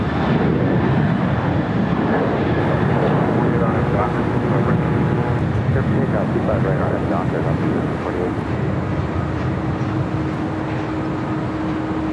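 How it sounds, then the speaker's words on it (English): United Boeing 787-9 Dreamliner at Los Angeles airport, a loud sustained jet engine rumble at moderate distance, with a voice talking over it. "United Dreamliner heading to Tokyo Narita, flight 32. It's a 787-9 Dreamliner."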